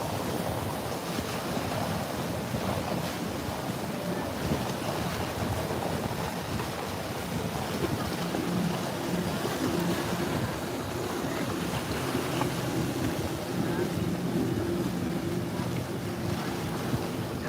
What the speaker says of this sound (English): we got a lot of boat traffic that comes through here